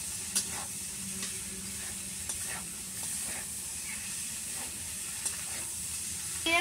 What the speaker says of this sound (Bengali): এবার আমি এই সবজিগুলোকে দিয়ে দেব। এবার একটু নেড়ে নেব।